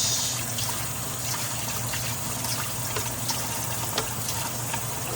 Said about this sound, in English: Getting ready to wash the turkey meat with lemon juice.